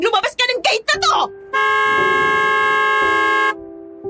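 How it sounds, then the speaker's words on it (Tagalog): A car horn blares long and loud from a fast-approaching car, one sustained steady blast lasting about two seconds after a burst of speech, then cutting off. "marinig ang malakas at mahabang busina na yon mula sa parating na isang kotse na mabilis ang takbo"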